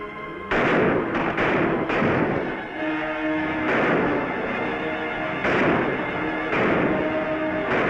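Sharp gunshots ring out in a 1955 Technicolor western, about seven loud reports in irregular bursts, each trailing off over a tonal background.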